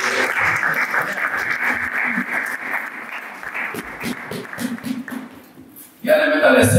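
A church congregation claps together during a worship service, a sustained wash of applause that thins midway and swells again loudly near the end.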